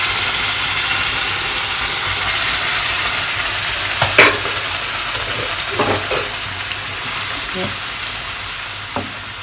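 Semolina halva with cheese thickens in a pan while syrup is stirred in, giving a steady hiss and sizzle broken by a few sharp bubbling pops and stirring knocks.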